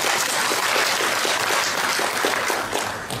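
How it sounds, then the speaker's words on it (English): At a charity classical music concert, an audience breaks into sustained applause, a dense run of clapping at even loudness throughout. "I'd like a big burst of applause for Tom and Jen for this wonderful gesture"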